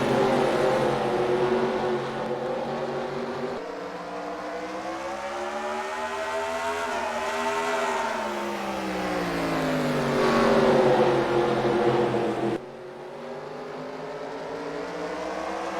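Race cars roar through a heat race at Oswego Speedway, engines loud and close, pitch rising and falling as the pack sweeps past, with a brief drop in level near the end.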